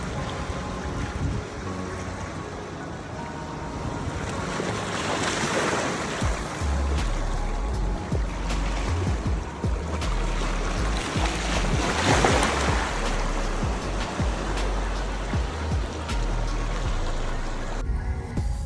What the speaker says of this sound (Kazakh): Теңіздің дыбысы бәрібір басқаша ғой